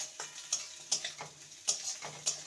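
Chopped capsicum being stirred in a frying pan, a spatula scraping in quick, regular strokes over a faint sizzle, close and fairly quiet with no talking.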